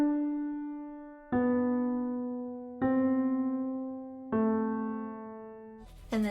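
A few sustained piano notes struck one after another at a slow, even pace, each ringing out and fading before the next, ending on a brighter note.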